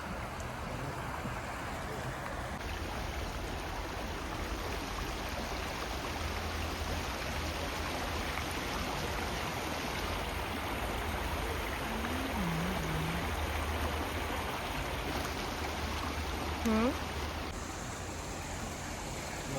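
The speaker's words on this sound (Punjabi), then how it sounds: "ਆ ਕ੍ਰੀਕ ਆਉਂਦੀ ਆ ਕਿਸੇ ਪਾਸਿਓ" A forest creek in a British Columbia park in winter rushes in a constant broadband wash, steady and moderately distant, with a voice speaking briefly over it.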